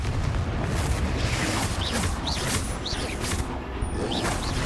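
A Confringo spell explosion in a Harry Potter video game produces a dense, continuous rumbling blast that stays loud and rough throughout with no pauses, and faint chirpy tones sit above the roar.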